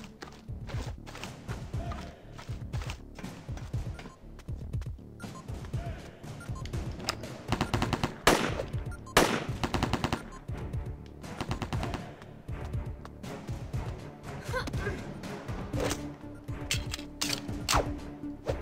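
Rapid machine-gun bursts from a video game, with dense rhythmic volleys of shots repeating steadily across the clip, some louder, heavier stretches in the middle, and a little background game noise.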